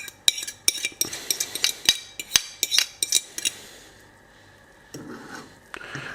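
Soft-shell egg scrambled with butter in a pan, a utensil rapidly clinking and scraping against the pan in quick sharp strokes, then a softer sizzle once the stirring stops.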